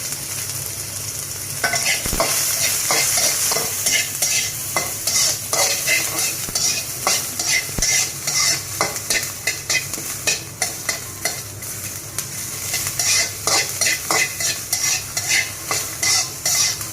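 Onions frying in hot oil for a kalijira bhorta, stirred with a spatula: a loud, steady sizzle carries the whole clip, with repeated scraping strokes and light utensil clinks against the pan. No voices.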